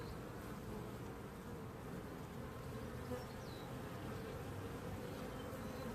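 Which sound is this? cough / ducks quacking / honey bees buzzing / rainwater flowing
honey bees buzzing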